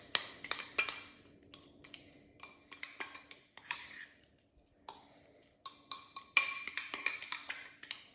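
Egg salad being mixed with salt and pepper in a bowl gives a run of quick metallic clinks and scrapes of a utensil against the dish, close and fairly loud, in bursts with short pauses.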